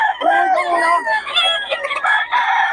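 Several roosters crow loudly and close by, their long drawn-out calls overlapping one after another, with a few clucks mixed in.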